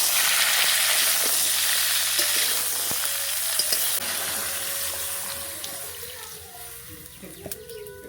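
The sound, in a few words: broccoli, potato and okra frying together in a wok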